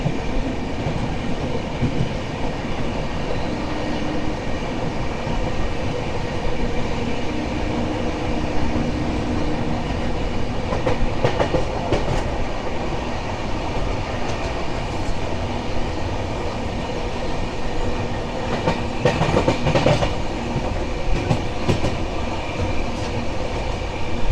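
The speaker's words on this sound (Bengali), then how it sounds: "ট্রেন এখন লাক্সার স্টেশনে ঢুকলো," A Kumbha Express train runs on the rails at night, a continuous rumbling roar with rattling wagon noise and bursts of clacking and squeal near the end, heard from inside the carriage.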